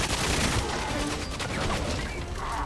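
Dense, continuous gunfire fills a firefight in GoldenEye 007 Reloaded, a rapid rattling barrage of shots that stays loud and unbroken throughout.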